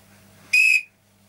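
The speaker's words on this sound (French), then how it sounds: "À mon coup de sifflet, il doit s'arrêter, le second commencer" A single short, sharp whistle blast, loud and shrill, lasting about a quarter second against near silence.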